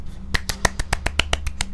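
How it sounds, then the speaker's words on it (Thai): One person claps their hands about a dozen times in a quick, even rhythm. The claps are close and sharp over a faint low background tone. "ผมปรบมือให้ตัวเองนี่แหละไม่มีใครปรบเอง"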